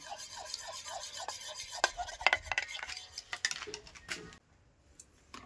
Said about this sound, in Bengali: এই দইটা আমি ভালো করে ফেটিয়ে নেব।